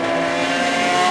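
An Austin race car at the Goodwood Members' Meeting drones loudly and steadily at high revs, close by, with no voices over it.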